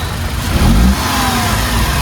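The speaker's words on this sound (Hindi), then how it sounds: "इंजन नॉइस में बिल्कुल साफ साफ फर्क है" A Tata Tiago XT petrol car engine from 2023 runs loud and close, its steady hum swelling into a brief rev near the middle before settling back to an even idle.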